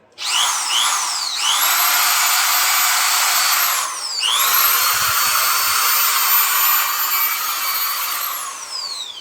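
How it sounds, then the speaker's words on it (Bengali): An electric drill powered by a 4000 W pure sine wave inverter whines at high pitch, spinning up, briefly dropping in speed twice, then running steadily and loudly before slowing near the end. "ড্রিল মেশিনটা আপনাদেরকে একটু চালিয়ে দেখাবো"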